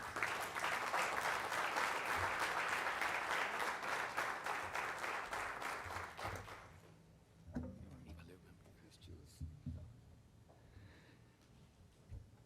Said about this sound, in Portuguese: Vamos recebê-lo com uma salva de palmas ao Senhor Jesus.